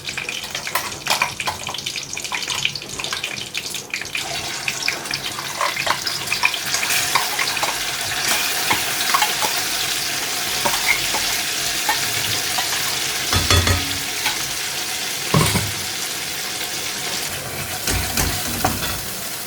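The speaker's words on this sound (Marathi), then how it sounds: "आपण आता याच्यात तेल टाकूया। हे आपण थोडेसे जिरे टाकूया" Cumin seeds and a bay leaf sizzle in hot oil for a vegetable kurma, a steady broadband frying hiss running throughout with a few louder spits and stirring clatters, close and fairly loud with no talking.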